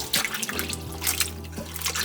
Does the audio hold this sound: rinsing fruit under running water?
yes